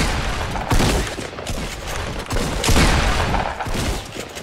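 Gunfire from an opposing team in the video game Fortnite, sounding as several loud bursts of shots that come close together across the moment, with no talk over them.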